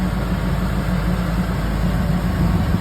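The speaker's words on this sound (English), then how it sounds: "this is car running with the fan on" A classic Pontiac Trans Am engine idles steadily nearby with a low rumble and a constant whirring tone from an electric pusher fan on top, no voices.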